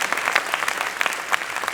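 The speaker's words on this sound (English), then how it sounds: "Round of applause for the computer." A dense burst of audience applause fills a tech conference hall, many hands clapping steadily and fairly loudly, with no voices rising above it.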